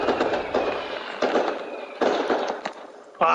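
Fireworks pop and crackle outside in a run of sharp bursts, about six in quick succession, moderately loud and spaced roughly half a second apart.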